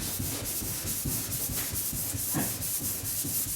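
Coarse scratches left by 240 grit are sanded off faded boat gelcoat by hand, producing a close, continuous gritty rubbing with rapid back-and-forth strokes and no pauses.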